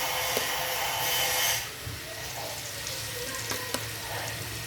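Bananas drop into a hot pan and fry with a loud, hissing roar that surges early, then settles into a steady sizzle punctuated by a few sharp pops and clicks.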